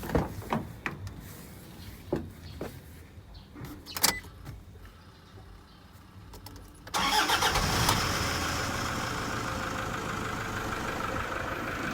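A Toyota Vigo pickup engine cranks and starts after an oil change. A few clicks and knocks come first, then the engine catches and settles into a steady, loud idle.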